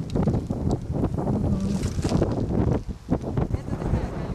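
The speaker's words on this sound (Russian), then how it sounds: "Ветер какой, а?" Strong seaside wind on the Crimean coast at Novoozernoye buffets the microphone in continuous gusty roaring, with faint voices underneath.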